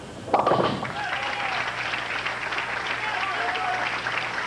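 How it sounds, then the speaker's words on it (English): Crowd at a 1990 LPBT Hammer Midwest Open women's bowling match cheering and clapping steadily, with a thump near the start, and a commentator speaking over it. "And you hear the crowd trying to exhort her on."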